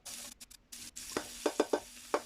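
Onions dropped into hot oil for a chicken akhni give a short run of sharp sizzling bursts, about five distinct crackling surges over a low steady hiss, close and moderately loud with no talking.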